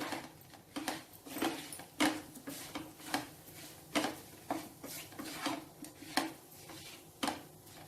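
A utensil stirs grated fresh coconut into a spiced kaaram vundraallu dumpling mixture in a pan on the stove, giving a steady series of close scraping knocks and clinks at an irregular beat.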